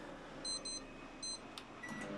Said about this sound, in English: the microwave is working and you can control it with the cycle timer